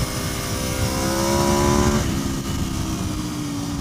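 An Aprilia RSV4 sport motorcycle howls around a race track, its engine loud and close as it holds a high rev, then the pitch drops sharply midway as the rider shifts or rolls off.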